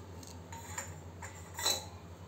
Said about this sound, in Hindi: इसको अच्छे से मिक्स कर देंगे।